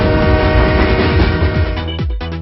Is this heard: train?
yes